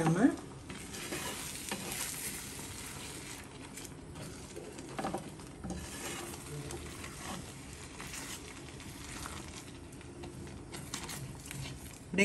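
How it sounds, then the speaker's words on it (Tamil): Steady sizzling as coconut paste is stirred into a frying pan of mushroom gravy, with scraping and stirring noises running throughout, no voices. "தேங்காயை ஊற்றி நல்லா அப்படி கிளறி விட்டுக்குங்க"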